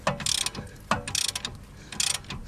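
Hand ratchet loosening a bolt on a Honda Civic front suspension, three quick bursts of rapid clicking in an even back-and-forth rhythm, close and clear with no talking.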